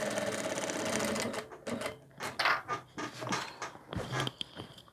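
Domestic sewing machine with a presser foot stitching the side seam of a double-faced jacket, running in a steady fast whir for about a second and a half, then short stop-start bursts of stitching.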